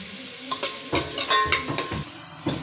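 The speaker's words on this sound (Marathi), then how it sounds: "कांदा टाकला जाईल आणि कांदा लाल होईपर्यंत हे तेलामध्ये चांगले परतवले जाईल" Onions frying in oil for a homemade chicken biryani, with a close, steady sizzle and a quick series of sharp spoon-scraping stirs against the pan.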